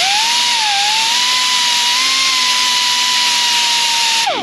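A belt sander grinds the face of a brake rotor from a 2015 VW Jetta, giving a loud, steady, high whine that holds for several seconds and then cuts off.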